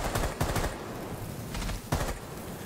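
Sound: gunshots in Rainbow Six Siege video game

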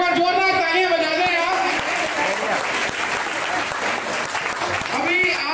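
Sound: audience applause at a Bhagwat katha

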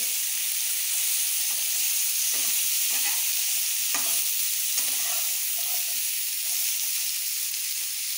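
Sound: vegetables frying in a pan for veg hakka noodles

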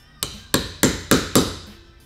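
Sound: hammer hitting a wedge

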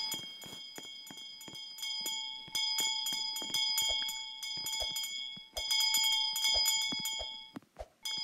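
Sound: bells ringing in a Roblox video game

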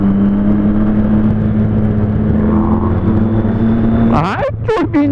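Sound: motorcycle engine revving with turbo

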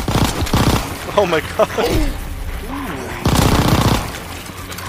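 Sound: gunfire in a video game

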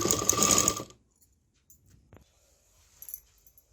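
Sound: sewing machine stitching a zipper onto a makeup organizer

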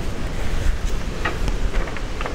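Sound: wind blowing into the microphone

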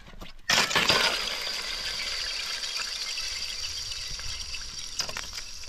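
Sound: ice being smashed

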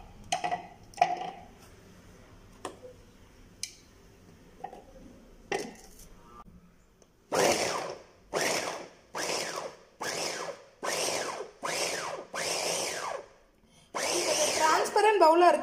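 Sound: electric vegetable chopper chopping carrot

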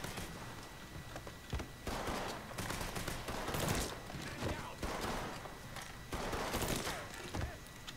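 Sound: gunfire from the video game Mafia III

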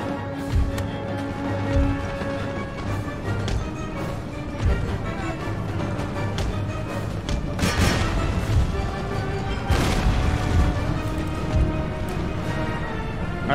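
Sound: musket and artillery gunfire in Total War: Empire video game

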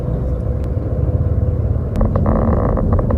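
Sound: riding inside an electric taxi car in traffic

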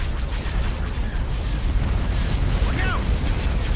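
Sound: cruiser cannon fire and explosions from video game Star Wars: Empire at War

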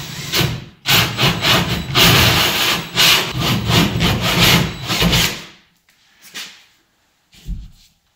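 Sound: sawing a hole in sheetrock wall

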